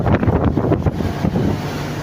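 Strong wind roars and buffets the microphone in a constant low rumble, with no break and no voices.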